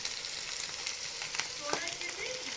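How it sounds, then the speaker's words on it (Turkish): Hot oil spatters and sizzles in a frying pan, a close, crackling hiss with scattered pops, and faint background voices and clinks come through. "Yağ sıçrayır."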